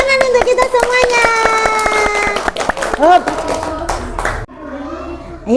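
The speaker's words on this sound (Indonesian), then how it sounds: "tepuk tangan untuk kita semuanya." Children in a classroom clap their hands in quick, sharp bursts while young voices chant and call out over them, ending in a brief, quieter pause before a fresh clap.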